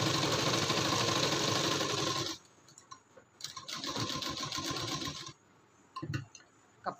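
An electric sewing machine stitches a blouse in a tailoring session, running in a loud steady whir, stopping, running again in a longer burst, then stopping, followed by short starts.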